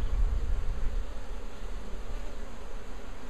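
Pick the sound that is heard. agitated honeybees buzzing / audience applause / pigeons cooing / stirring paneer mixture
agitated honeybees buzzing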